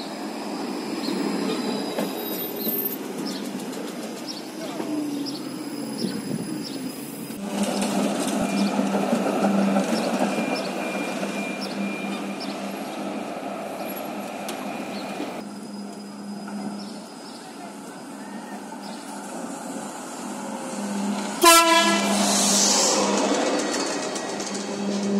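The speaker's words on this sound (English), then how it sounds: "And here's the Belgium Coast tram." A Belgian Coast tram rolls past below a rooftop, its wheels grinding and squealing on the rails in long, shifting passes, with a sharp screech and a loud burst near the end.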